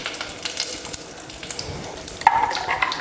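Mustard seeds, curry leaves, asafoetida and turmeric sizzle in hot oil, a close, light crackle with scattered pops that grows a little louder near the end.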